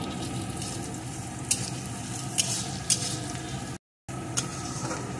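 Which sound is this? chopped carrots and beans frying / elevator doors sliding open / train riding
chopped carrots and beans frying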